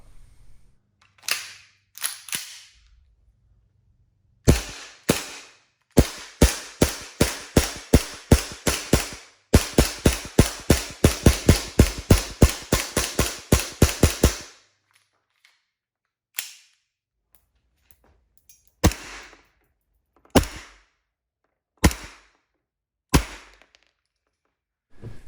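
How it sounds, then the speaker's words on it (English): ICS Hi-Capa Challenger airsoft pistol firing a full magazine, sharp close snapping shots, a few spaced at first, then a fast, steady string of about thirty, then more scattered single shots with clicks between. "if I can get through an entire magazine without having any power loss, I consider that an efficient magazine"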